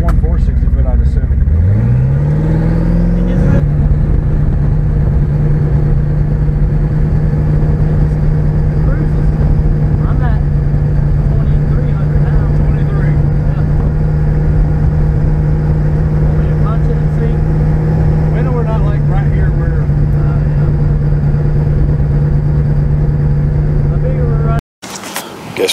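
Twin turbo Chevrolet S10 engine revving hard as the pedal is mashed, rising quickly then holding a loud steady drone for about twenty seconds before cutting off abruptly near the end.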